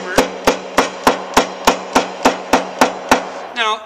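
Steady hammer taps on a metal sheet laid over a 1955 Chevy truck frame, about ten evenly spaced sharp ringing strikes close by, followed by a brief different clatter at the end.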